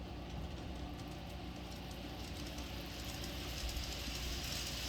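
An N scale model steam locomotive, number 844, pulling a long freight train: a steady low mechanical whir and rumble runs continuously, a small motor sound with faint clicking on top, moderately quiet and close.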